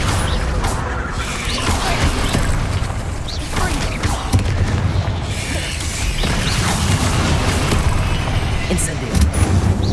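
Repeated Confringo fire spell blasts in Hogwarts Legacy, loud bursts and crashing booms in quick succession over continuous combat noise, with a voice calling out spell names throughout.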